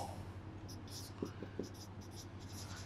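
Pen or chalk writing during a Class X English lesson, a few short scratchy strokes at close range over a steady low hum, with faint whispery noise and no clear talk.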